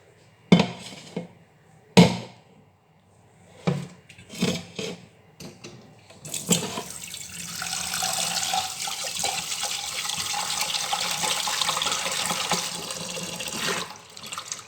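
Tamarind leaves washed under running water: a few separate splashes and handling knocks at first, then a steady tap stream pouring continuously for the remaining seconds, fairly close.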